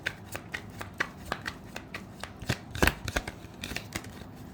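Tarot cards are shuffled by hand in a quiet room, a string of crisp riffling snaps and soft flicks at an uneven rhythm, the loudest burst near the middle, with no voices.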